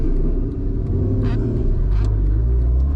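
Honda Civic Type R with its high-revving K20 engine, heard from inside while driving. A loud, steady engine drone and road rumble run throughout with small swells in pitch and no talk over it.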